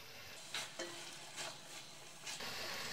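Vegetables stir-fried in a pan for hakka noodles: a steady close sizzle broken by a few scraping stir strokes, fairly quiet and with no voices.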